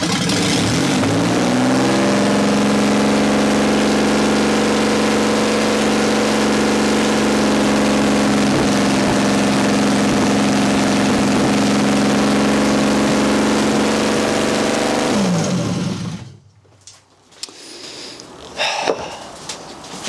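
An abandoned BMW engine, left unused for 30 years and running without its exhaust connected, catches and roars loudly. It holds a steady, rising rev for about fourteen seconds before cutting off, leaving a few scattered knocks and clatters.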